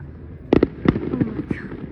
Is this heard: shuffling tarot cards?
no